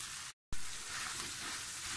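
Mashed potatoes fry with onions for samosa filling, a soft steady sizzle that drops out to silence for an instant, then returns with a sharp onset and keeps hissing.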